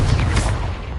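A Confringo blasting spell in Hogwarts Legacy, a short, loud booming blast with a deep rumbling body that fades over about a second.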